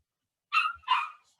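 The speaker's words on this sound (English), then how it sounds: "I've got to get my dog under control here." A dog barks twice at close range indoors, two sharp, fairly loud yips in quick succession after a moment of silence, during a lecture recording.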